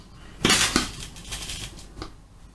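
A spoon scrapes out a 5-gram portion of ingredient for a coconut dish and laundry soap batch. Two close, fairly loud scraping clinks come first, followed by softer scratches and one last light tap, with no talking.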